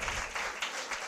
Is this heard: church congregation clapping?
yes